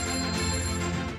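A telephone rings in a steady electronic tone, a loud, continuous trill of stacked harmonics with no voices over it.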